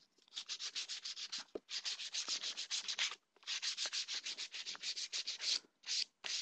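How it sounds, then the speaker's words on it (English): Sandpaper rubbing along the edges of PVC/Sintra armor plates, a close run of quick back-and-forth scratchy strokes in steady rhythm, with a few brief pauses between bursts. "sand to round these edges"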